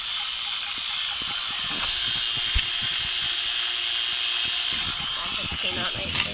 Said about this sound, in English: Liquid line here, and vacuum pump.